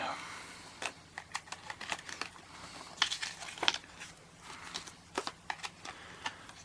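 Packing paper crinkles and rustles in short bursts while a Seagate One Touch 5TB external hard drive is unboxed, sharp crackles alternating with brief pauses, fairly close and moderately quiet.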